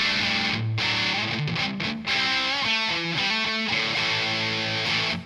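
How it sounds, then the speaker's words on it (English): Heavily distorted electric guitar chords and notes played up close through a distortion pedal in a stereo guitar rig, thick and saturated, with a brief gap before the riff resumes. "I'm just going to turn on my main distortion"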